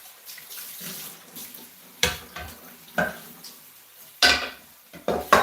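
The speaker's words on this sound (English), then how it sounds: "Using my hands here to rinse it all away." Water splashes as hands rinse away residue during a manicure, coming in several uneven bursts of close, running and sloshing water.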